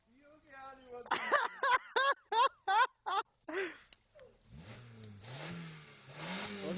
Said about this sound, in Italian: Lo senti il motore?